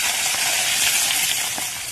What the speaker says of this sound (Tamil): இப்போ எண்ணெய் சூடாயிடுச்சு. தாளிக்கிறதுக்கு இதில் கடுகு போட்டுக்கலாம்.